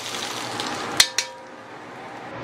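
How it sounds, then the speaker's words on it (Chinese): Hot oil is poured over a steamed fish head topped with chopped chili and scallions, setting off a broad hissing sizzle punctuated by two sharp clinks before the hiss slowly settles. "最后在鱼头表面淋上热油"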